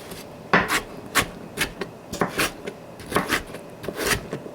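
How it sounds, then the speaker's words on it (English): A knife chops potatoes into fine squares on what sounds like a wooden board, a series of crisp, uneven knocks and scraping rubs heard up close with no talking. "you can just chop them until it gets into fine squares"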